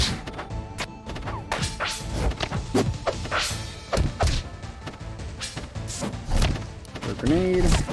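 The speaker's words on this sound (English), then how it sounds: "A grenade." Grenade blasts in a Kirby video game: a cluster of loud smashing thuds and whacks in quick succession, with bright game effects and a rising tone near the end.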